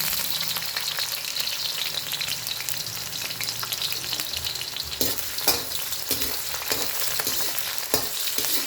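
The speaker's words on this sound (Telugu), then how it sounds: "ఇప్పుడు గార్లిక్ వేస్తున్నానండి, వెల్లిపాయ వేస్తున్నాను. ఉల్లిగడ్డ వేస్తున్నాను." Garlic and onion fry in a pan for vegetable noodles, a steady close crackling sizzle throughout, with a few sharp scraping stirs of a spatula near the end.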